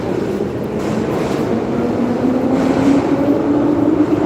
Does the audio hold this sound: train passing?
yes